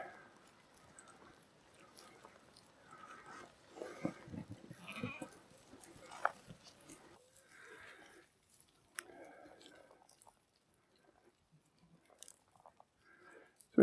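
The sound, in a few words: sheep bleating on a Lake District path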